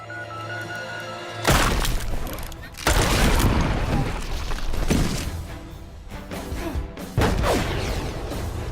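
A film action scene of a fist punching through a wall, heavy crashing impacts and crumbling debris bursts in several loud blows over a dense cinematic background.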